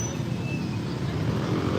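Street traffic in the Philippines forms a steady roar of cars, buses and trucks passing on a busy road, dense and continuous at moderate loudness with no clear individual vehicle standing out.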